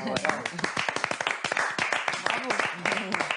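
Clapping for a woman on a French television programme, a quick run of sharp hand claps sounding close, interleaved with lively talking voices throughout.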